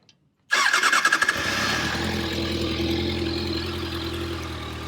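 A 2017 Kawasaki ZX6R 636 sport motorcycle engine cranks and fires up with a loud, sputtering start, then settles into a steady, close idle that runs to the end.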